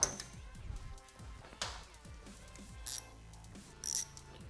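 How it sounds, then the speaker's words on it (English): Metal tools clink and rattle as a 10mm socket is picked out of a tool set during turn signal work on a 2017+ Suzuki GSX-R1000, giving a few close, sharp clatters and taps with quieter handling in between. "We need to grab a 10mm socket."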